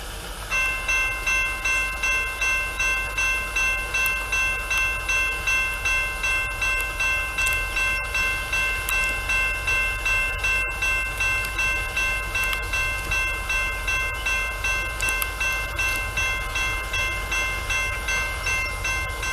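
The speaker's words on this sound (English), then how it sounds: "This train didn't really have much special on him, although there were 2 cars, both Rock Island hoppers, a Pullman hopper, and an ACF 3-bay hopper." Norfolk Southern freight train of coal hoppers, including Rock Island, Pullman and ACF three-bay hoppers, rolls past with an SD70ACU trailing. Wheels clack in a steady, even rhythm throughout, loud and close, with a faint tonal whine and no talk.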